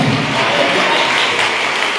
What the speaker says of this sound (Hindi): प्रभु यीशु मसीह के लिए जोरदार ताली बजाएंगे